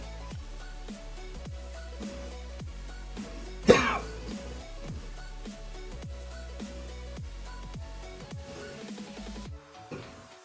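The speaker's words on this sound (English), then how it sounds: "Talking for 2 hours, I start to cough." A man coughs once sharply and briefly near the mouth during a Raid: Shadow Legends gaming session, heard over quiet, steady background game music.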